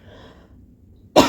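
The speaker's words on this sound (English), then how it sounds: "Didn't mean to cough into the camera" A single sharp, close cough bursts out after a stretch of near silence, loud and brief at the very end.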